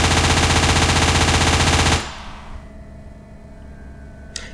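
Rapid, sustained automatic gunfire from a horror video game, Living Nightmares, loud and dense for about two seconds before cutting off abruptly to a faint ambient rumble, with one brief sharp crack near the end.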